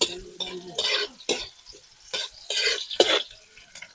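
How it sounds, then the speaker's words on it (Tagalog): Garlic, onion and ginger sauté in a pan with repeated stirring scrapes in irregular bursts and a light sizzle underneath, close by and without speech. "unahin natin itong ating bawang. Tapos itong ating sibuyas. Itong ating luya. Halo-haloin lang natin"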